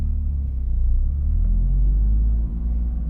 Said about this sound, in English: These tires are loud as they are winter tires